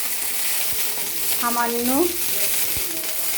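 Okra sizzling steadily as it is stir-fried in a pan, a constant close hiss with a brief voice speaking partway through.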